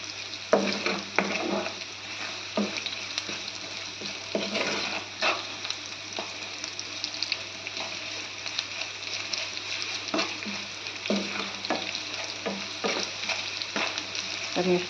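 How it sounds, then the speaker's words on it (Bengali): Chopped onions sizzle steadily in a pan while being fried for mung dal bhuna khichuri, with intermittent scraping stir strokes over a continuous hiss; close and moderately loud, no talking. "আমি পেঁয়াজ কুচি দিয়ে একটু ভাজা ভাজা করি"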